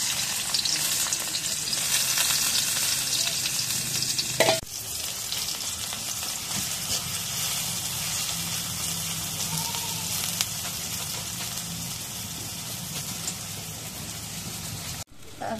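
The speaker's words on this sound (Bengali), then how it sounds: "এখন এই পেঁয়াজ কাটা তেলের মধ্যে দিই।" Chopped onion frying in oil in a wok: a loud, steady hiss of sizzling that runs throughout, broken by a thump near the start and a sharp knock close to the end.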